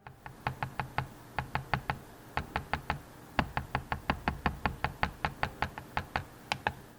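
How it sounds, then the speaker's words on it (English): A loose, rattly touchpad on an MSI GF63 Thin gaming laptop tapped in quick bursts of sharp clicky knocks, close and crisp, each run of several taps broken by short pauses, no talking. "the one thing that I didn't really like was how the bottom of the touchpad was a bit loose and rattly"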